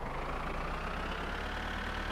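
Tractor engine in My Summer Car, a steady low rumbling idle that drones evenly without change, with no talking over it.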